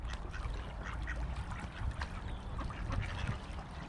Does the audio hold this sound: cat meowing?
no